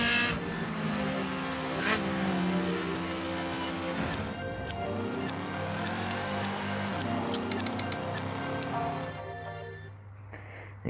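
Revving car engine and exhaust in the Gear.Club racing video game, a steady droning engine note with rising and falling pitch sweeps running throughout, fairly loud and alone.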